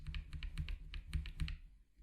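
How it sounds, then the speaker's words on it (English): Arrow keys on a computer keyboard are pressed in a quick run of light, even taps with a faint, close click on each press, and no speech over them. "I'm going to press the up arrow key"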